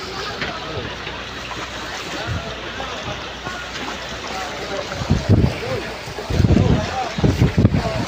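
Strong wind at sea roars steadily against the microphone, with waves and a boat's rumble underneath and gusts buffeting harder toward the end.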